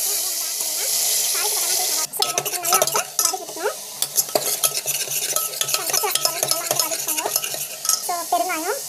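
Mustard seeds, cumin and onion fry in hot oil in a pan for a home-style curry. A steady sizzle runs under repeated scraping stirs and clinks of a utensil against the pan.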